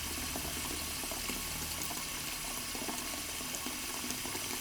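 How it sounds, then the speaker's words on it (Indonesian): Water splashes and pours continuously, like a tap running into a bathroom basin, a steady close hiss that fills the whole stretch without pauses or voices. "Gak lama kemudian ada suara siram-siram air."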